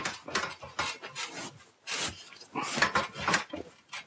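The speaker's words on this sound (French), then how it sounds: "on va caler le panneau" A roof insulation panel is wedged into place, making repeated close rasping, rubbing scrapes in short strokes, with no talking.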